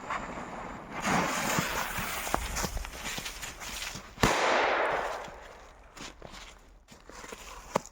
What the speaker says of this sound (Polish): testuję trzeci rok praktycznie to samo, jeśli chodzi o petardki